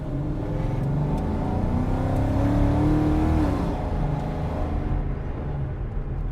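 Repaired salvage pickup truck engine with a rebuilt motor, revved hard as the accelerator is floored; a loud, rising engine roar swells for a few seconds, then eases back, with no voices.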